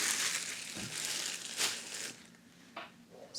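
Soft fibrefill stuffing is pushed into a small crocheted capybara, giving close, faint rustling and crinkling pulses with short pauses between.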